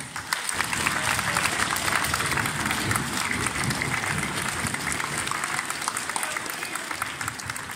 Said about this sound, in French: ils méritent vraiment tous vos applaudissements